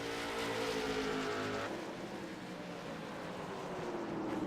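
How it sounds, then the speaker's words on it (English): Race cars running on the Stafford track during a race, a loud engine drone that drops in pitch as one car passes, followed by the rumble of more cars close by, with no voices. "Brad was able to get a good run there off the corner, holding off AJ for another lap"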